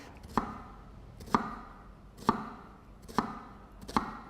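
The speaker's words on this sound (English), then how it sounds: "we're going to cut as close together as you can along the lines of the onion, just with the tip of your knife" A knife tip cuts close lines into an onion on a board, producing five evenly spaced, crisp chopping taps about one second apart, close and fairly quiet with no speech.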